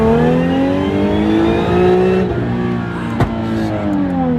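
A BMW E93 M3 with valvetronic mufflers and test pipes revs hard toward redline, a loud, close, harmonic-rich engine wail holding high, then dropping briefly before climbing again, with a sharp click partway through.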